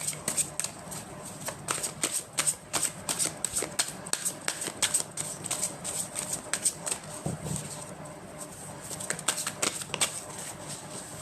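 Tarot cards being shuffled close up in a quiet room, a long series of crisp, irregular riffling and slapping bursts with brief pauses between them.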